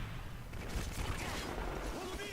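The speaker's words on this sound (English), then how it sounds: "2 opening shots are being made." Gunfire in Call of Duty: Modern Warfare 3 on PS3, a dense burst of shots in a competitive match, moderately loud under a commentator's voice.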